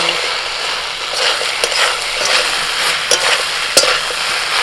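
Crispy fried baby corn being stirred into chilli sauce in a frying pan, with a constant close sizzle and scattered sharp clinks and scrapes of a utensil against the metal pan, and no talking.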